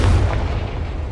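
Blast of the Confringo spell from Hogwarts Legacy, a single loud booming burst with heavy low rumble that decays steadily over about a second, with no voices.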